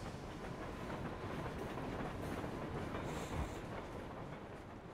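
A train in a video game rumbles on continuously with a dense, rolling clatter, steady and moderately quiet throughout, with no voices.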